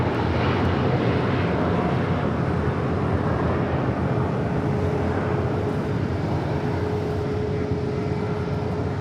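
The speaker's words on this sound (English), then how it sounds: "Dreamliner making those final turns, heading into the gates of Tom Bradley" A Boeing Dreamliner taxiing at LAX, making its final turns toward the Tom Bradley gates, gives a steady, broadband jet-engine rumble that holds at a constant moderate level with a faint whine running through it.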